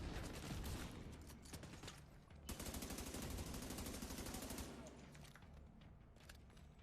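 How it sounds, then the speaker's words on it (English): A fireworks crate goes off in the video game The Division 2, a dense, rapid crackling barrage of bangs that runs steadily for several seconds before thinning out, heard at low volume. "And it set off the fireworks crate."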